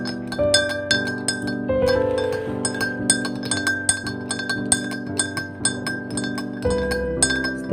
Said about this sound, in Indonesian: Setelah dituangkan airnya, kita aduk ya,